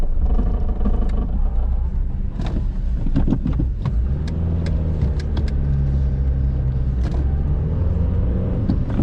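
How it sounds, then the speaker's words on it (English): A car drives along with a loud, steady engine rumble and road noise from inside the cabin, with scattered clicks and knocks over the drone. "Kaja, I'll take you back to where your car is"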